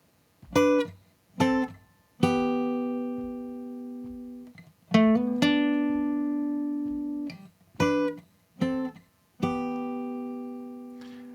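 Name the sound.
guitar lead line with hammer-on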